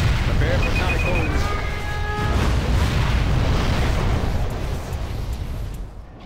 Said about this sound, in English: Prepare for sonic boom.